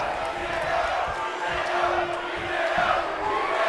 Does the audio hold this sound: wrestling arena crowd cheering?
yes